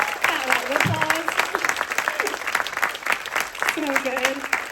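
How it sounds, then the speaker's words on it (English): Applause from a conference audience for panel speakers, a moderate patter of clapping with a voice talking over it. "can you please help me thank our wonderful speakers with a round of applause?"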